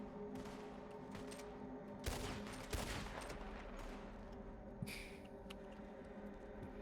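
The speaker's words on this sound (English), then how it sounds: "I'm gonna get you some cover fire" Distant gunfire in a Red Dead Redemption 2 roleplay shootout comes as a few faint bursts of shots, spaced apart against a quiet, steady background.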